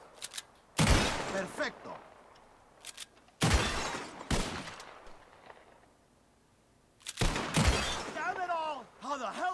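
Sharp revolver shots crack at bottles in a saloon game of Red Dead Redemption 2, three loud separated blasts with decaying echoes, and someone speaks briefly between and after the shots.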